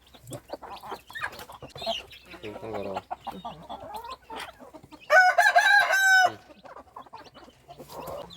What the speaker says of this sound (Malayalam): നമ്മളെ ബ്രഹ്മ കോഴി കേട്ടോ ഈ ഒരു പെടക്കോഴിയും അതേപോലെ ഒരു പൂവൻ കോഴിയുണ്ട്